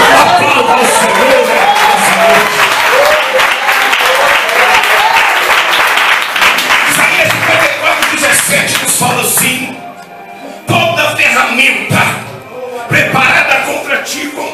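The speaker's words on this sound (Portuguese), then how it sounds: "Aplauda ao Senhor." Church congregation clapping in a loud, continuous burst throughout, with talk mixed in and a brief dip near the end before the clapping picks up again.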